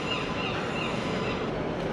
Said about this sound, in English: the Inverness train is on the same platform